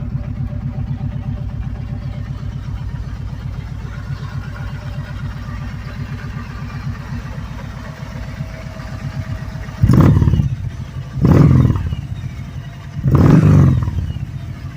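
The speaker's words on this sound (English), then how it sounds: "You can hear that throaty rumble." 2020 Kawasaki Vulcan Voyager V-Twin 1700 touring motorcycle idling close by with a steady pulsing rumble, then three short sharp throttle blips that rev up and fall back to idle.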